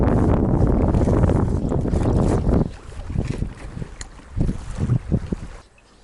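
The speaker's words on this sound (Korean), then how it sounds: "분명히 일기예보에는 바람이 이 정도는 아니었는데" Strong wind gusts buffet the microphone at a lakeside fishing spot, a loud blustery roar that drops away, then returns in several shorter bursts before fading.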